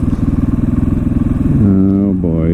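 A 2014 KTM 450 XC-W set up as a supermoto idles close by with a loud, pulsing single-cylinder thump, then rises into a smooth rev near the end.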